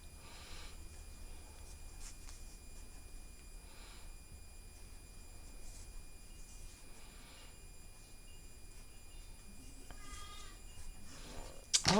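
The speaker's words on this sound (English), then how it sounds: "you could probably hear my goats" Goats bleat faintly in the distance on a farm, a few brief calls rising over steady low background noise, with a sharper cluster of sound near the end.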